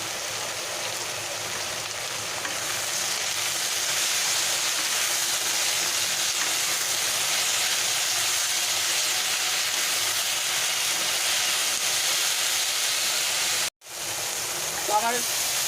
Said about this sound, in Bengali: এর মধ্যে অল্প পরিমাণ হলুদ আর নুন দিয়ে আগে আমি এটাকে ভালো করে ভেজে নেবো